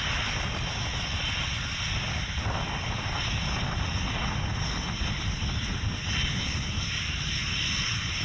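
A fixed-wing aircraft on one of its final flights, its engine roar steady and broadband throughout, fairly distant and unbroken, with no one talking.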